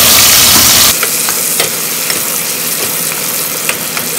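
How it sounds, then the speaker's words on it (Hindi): Onions and chillies fry in a pan with a dense, loud, continuous sizzle close by, punctuated by sharper crackles and stirring clicks after an initial hissing burst. "तब तक भूनेंगे जब तक हमारे ये प्याज ब्राउन नहीं हो जाते। मिर्ची को भूनने के साथ साथ"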